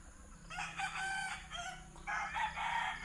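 A gamecock, a battle stag, crows nearby in two long, loud calls separated by a brief pause, with low farmyard background and no speech.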